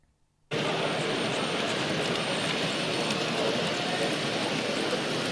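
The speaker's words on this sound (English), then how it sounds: "The good old container train." Container freight train passing close by with a steady, loud roar of wheels and rumble that begins abruptly and holds constant throughout.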